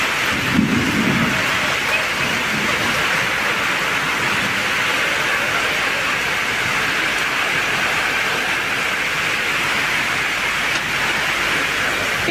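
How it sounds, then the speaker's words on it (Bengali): Heavy rain pours down steadily on a flooded village courtyard, a dense, loud, unbroken roar with a low rumble of thunder near the start, and no voices. "আজকে বৃষ্টিটা অন্য দিক দিয়ে আসছে, ওই জন্য এইদিকে জল চলে আসছে।"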